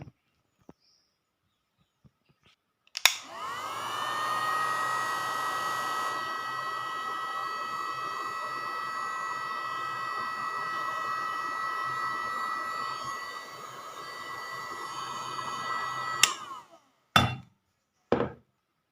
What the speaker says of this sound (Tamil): இது மாதிரி ஹீட் கன் யூஸ் பண்ணி அதை போட்டுக்குங்க